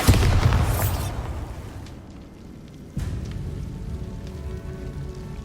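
A Bombarda spell explosion in the Hogwarts Legacy video game: a loud booming burst at the start that fades into a rumbling tail, followed by a second sharp blast near the middle that rings on and decays.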